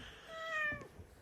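A single clear cat meow, rising and falling over about half a second, near and moderately quiet against a faint background, with no speech.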